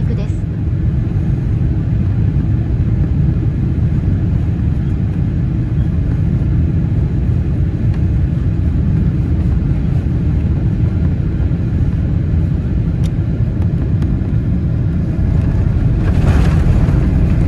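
A JAL airliner lands at Fukuoka Airport on its approach from the south, heard as a loud, steady broadband rumble from inside the cabin that holds unbroken for the whole stretch, with no voices.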